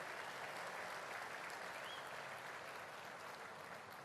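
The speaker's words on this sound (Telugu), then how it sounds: "గట్టిగా చప్పట్లు కొట్టి అభినందించండి" An audience at a public event honouring a Union Minister for Agriculture and Rural Development claps continuously and evenly, a dense sustained applause that holds at steady loudness throughout.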